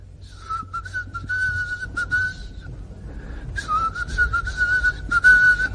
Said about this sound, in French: je siffle depuis des années un air que j'adore